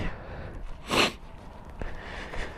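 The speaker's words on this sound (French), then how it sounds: "Excusez-moi je renifle un peu" A person sniffles once, a sharp nasal inhale in cold air, followed by a couple of fainter sniffs and breaths, close and alone without talk.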